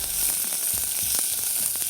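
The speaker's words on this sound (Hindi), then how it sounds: "थोड़ा सा प्याज, थोड़ा लहसुन, 1 खाने का चम्मच प्याज, तकरीबन 1 अदद दरमियाने साइज़ का, और इसको सबसे पहले करेंगे फ्राई" Chopped onion and garlic frying in oil for a pizza sauce, a steady broadband sizzle with soft clicks of stirring against the pan, close and continuous with no voices.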